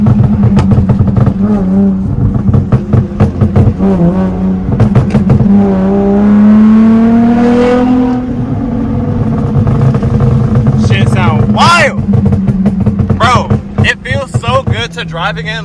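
A car engine revs loudly and close by, the pitch climbing and falling through repeated throttle blips while people talk excitedly over it.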